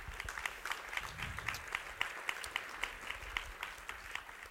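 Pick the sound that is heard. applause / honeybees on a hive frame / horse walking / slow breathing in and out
applause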